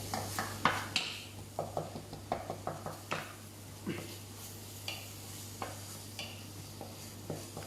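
Thai green curry paste frying in oil over medium heat, softly sizzling while a spoon scrapes and stirs the pan in repeated strokes, with a steady low hum from the stove behind.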